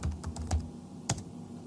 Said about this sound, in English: come up into your browser and type out google.com/takeout